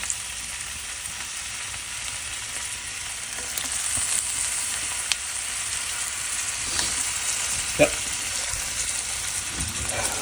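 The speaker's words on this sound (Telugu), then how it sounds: "అలా కొన్ని మిర్చి, వేసుకొని వేయించుకుందాము." Green chillies fry in a pan of hot oil for a chicken fry dish, giving a steady close sizzle throughout with a few sharp pops and spatters.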